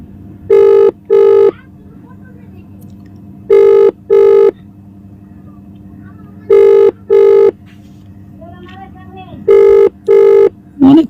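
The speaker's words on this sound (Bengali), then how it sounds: "মুফতি জৈনুল জিলানি জি, একে তো মানে অনেকবার ফোন করেছি আমি, আগে ফোন রিসিভ করিনি তো।" An outgoing phone call ringing unanswered, loud paired ringback tones repeating four times with gaps between, over a low background hum.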